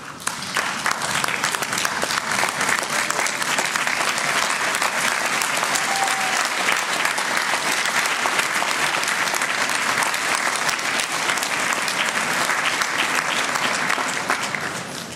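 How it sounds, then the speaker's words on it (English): Graduates at a college conferring ceremony give sustained applause, a broad, even roar of many hands clapping continuously for about fifteen seconds in a large hall. "give them a well-deserved round of applause."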